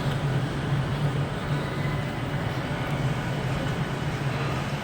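Avanti West Coast train pulling away from a platform at Carlisle station, a low steady engine hum with broadband rumble, continuous and moderately distant, no talk.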